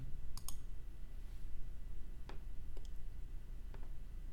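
A few faint, sharp clicks of a computer mouse while running a program on a Raspberry Pi, spaced irregularly over a quiet room hum.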